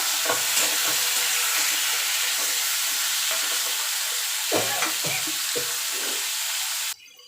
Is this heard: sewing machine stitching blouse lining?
no